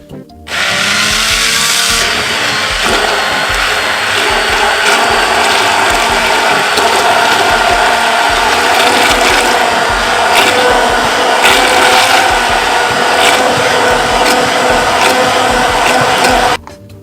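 A handheld stick mixer (immersion blender) whirs loudly and continuously for about sixteen seconds in a home kitchen, a dense mechanical buzz that starts and stops abruptly.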